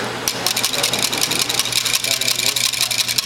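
A whisk beats oil into a vinaigrette in a bowl, making a fast, steady run of scraping strokes that stays close and fairly loud for the whole stretch.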